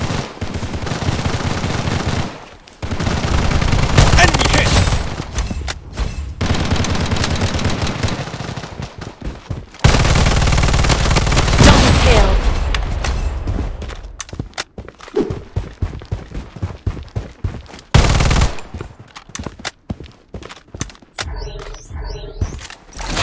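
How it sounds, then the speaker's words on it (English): A heavy fire turret in the video game Project BloodStrike pours out loud, close, continuous machine-gun fire in long sustained bursts. Brief gaps break the fire, and it ends in choppier, stuttering volleys. "Heavy fire turret activated. Taking hits."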